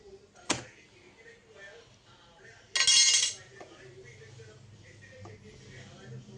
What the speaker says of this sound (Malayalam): ഈ ദോശ നമുക്ക് പാത്രത്തിലേക്ക് മാറ്റാം